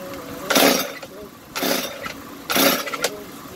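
A Stihl TS concrete saw engine cranks in three separate pull bursts, each sputtering briefly without catching, close and fairly loud.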